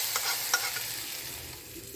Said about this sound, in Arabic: الطشه دي طلعت صوتها